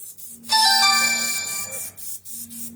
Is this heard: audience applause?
no